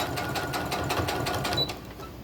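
A sewing machine stitches a lace journal cover with a rapid steady mechanical chatter, close and moderately loud, easing off near the end.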